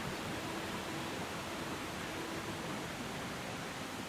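A waterfall in The Sims 4 gives a constant, even rush of falling water, faint and unbroken throughout.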